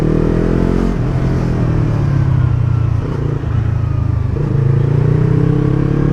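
A Yamaha R3 300cc motorcycle engine runs loud and close, a steady throbbing drone with a slight dip in revs around the middle before it picks back up.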